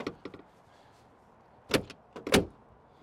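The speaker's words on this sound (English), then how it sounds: "Just like the doors, you gotta slam the hood to close it." The hood of a 2025 Mercedes G-Wagon 63 AMG is handled and slammed shut, with a few light clunks and then two sharp, loud metallic bangs near the end, close up with no talk.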